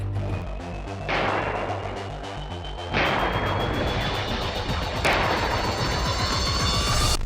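Three heavy booms of an Archer self-propelled howitzer firing about two seconds apart, each followed by a lingering rumble, loud and fairly close.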